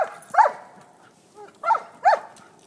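A dog gives a few short, close barks and yips spaced across a couple of seconds, bright and sharp against a quiet room.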